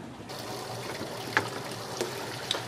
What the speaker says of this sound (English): We're now siphoning some water from the tank down into the 5-gallon buckets that we have the fish in.